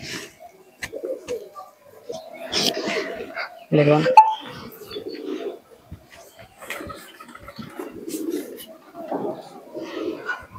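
A pair of local desi pigeons coo in low, intermittent bursts close by, with someone talking over them throughout and some background chatter and laughter.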